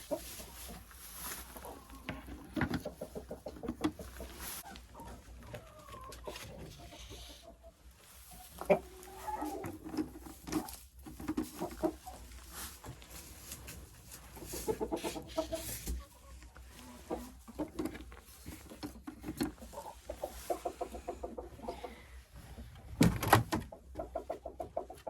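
Hens cluck and murmur close by in a snowy-season henhouse beside the nesting boxes, with scattered soft calls, a few louder squawks and occasional knocks from a door.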